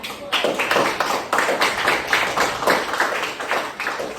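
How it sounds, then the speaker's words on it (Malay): A classroom of pupils claps together at a teacher's prompt, a lively, close round of many hands with pulsing rhythm, loud and steady for several seconds. "bagi tepukan"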